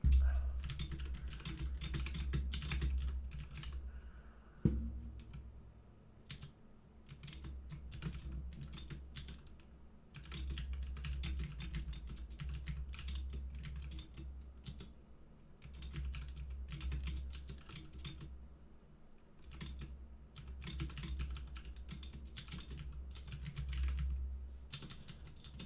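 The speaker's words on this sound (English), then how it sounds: "I just got to type something out" Computer keyboard typing in bursts of rapid clicks with short pauses between, fairly close, over a low steady hum, no voices.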